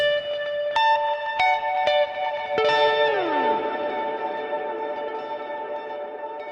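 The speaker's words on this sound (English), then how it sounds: "we then run all of that into the Space Echo, which is a tape machine emulator" Guitar notes struck one after another and fed into a Space Echo tape machine emulator, each ringing on in long repeating echoes; near the end the repeats crunch and slide downward in pitch, fading slowly with no talking.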